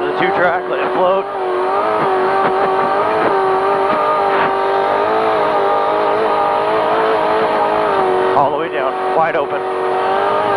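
Trophy truck engine held at full throttle during an off-road race, a loud, steady roar heard from inside the cab with brief tire noise, while people talk over it.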